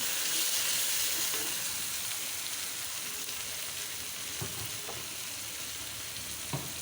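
Fish fried in a pan with garlic, dried chili powder and salt, after onion has been fried, giving a steady loud sizzle with occasional crackles and stirring scrapes, with no voices.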